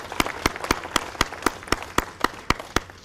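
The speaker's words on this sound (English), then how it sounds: "giving a round of applause for our honor guards" Applause for police honor guards at an outdoor street-sign dedication ceremony comes as a steady, fairly sparse patter of claps, a few hands beating in a quick even rhythm.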